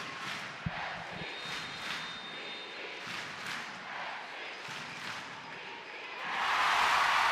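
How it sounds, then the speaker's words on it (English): Stadium crowd at a women's soccer match rising into a loud roar after a penalty kick goal, building from a low murmur to a swelling cheer at the end. "You hear the crowd, you know the reaction"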